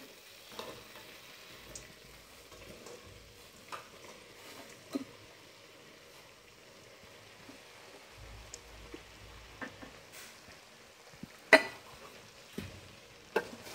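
Bread masala being stirred in a frying pan, with a soft, steady sizzle and scattered light scrapes and taps of the spoon. The scraping stays faint and close, with no talking.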